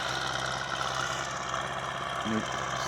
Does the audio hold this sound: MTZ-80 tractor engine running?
yes